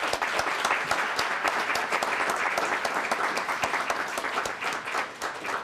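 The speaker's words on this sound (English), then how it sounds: "Let's give them a quick round of applause." Audience applause at a Martin Luther King Jr. scholarship reception honoring scholarship recipients and their families, a dense steady round of clapping from a crowd, sustained and fairly loud throughout.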